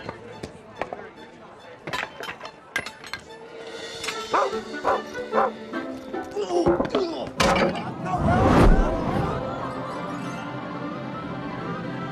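A dog barks repeatedly in a chaotic outdoor chase scene, sharp yaps and woofs scattered irregularly with whimpers, mixed with shouting voices and other clatter, growing busier toward the end.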